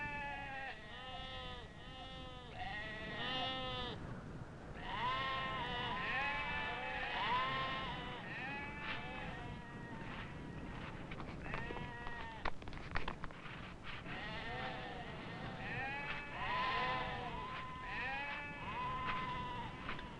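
Sheep bleat repeatedly at a Navajo herding settlement, several animals calling in overlapping, wavering cries close by, with a few short pauses between bursts.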